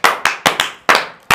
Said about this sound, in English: Niladri claps with passion